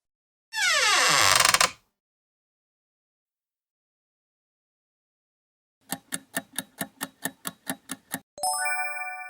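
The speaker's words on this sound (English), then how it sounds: "Creaking door." A creaking door gives a single drawn-out, squealing groan lasting about a second, then silence, followed by a rapid run of countdown ticks and a bright chime.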